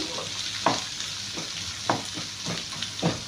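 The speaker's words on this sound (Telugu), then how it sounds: "తెల్లగడ్డలు ఇవన్నీ మనకి కొంచెం సాఫ్ట్గా అయితే చాలండి మరీ ఎక్కువ ఫ్రై అవ్వాల్సిన అవసరం లేదు" Garlic fries in a pan with a steady close sizzle, broken by a few sharp stirring scrapes at regular intervals.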